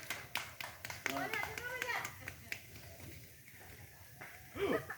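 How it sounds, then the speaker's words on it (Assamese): A quick burst of hand clapping from a gathering at a traditional Magh Bihu celebration, quiet and brief, quickly giving way to people talking, with a voice among them. "সকলোৱে এটা জোৰদাৰ হাত তালি।"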